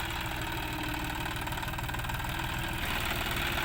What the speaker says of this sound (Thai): รถไถครับ เจ้านิวฮอลแลนด์ ครับ 5055e